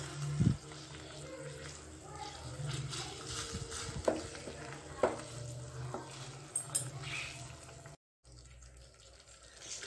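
Fried bread pieces for bread halwa are stirred around a pan with a spoon, giving soft scraping and light sizzling with a few sharper clinks against the metal. The sound is steady and close, with a brief cut near the end.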